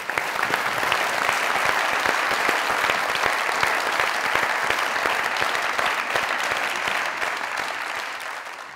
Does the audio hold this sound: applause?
yes